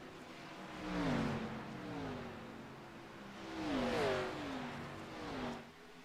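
Race car on a celebratory lap at Atlanta Motor Speedway in a racing video game, the engine swelling and fading in repeated passes with rising and falling pitch, moderately distant.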